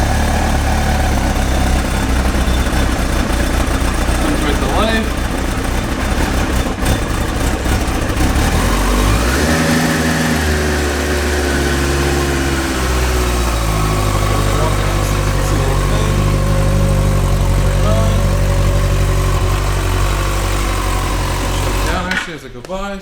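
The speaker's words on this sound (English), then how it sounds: "let me fire this thing up for you real quick so you can hear it run" A 2005 Yamaha FZ1 motorcycle engine runs close by with a steady, rumbling idle that rises and falls in pitch midway through, then cuts out abruptly near the end.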